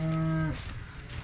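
Cattle on a farm let out a single loud, close moo lasting about half a second, then the field goes quiet apart from faint ambient noise.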